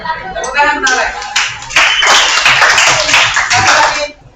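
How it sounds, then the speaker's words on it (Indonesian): Students applaud in a classroom: a burst of many hands clapping, fairly loud and close, lasting a few seconds before fading, with a voice heard briefly at the start. "Tepuk tangan Alek."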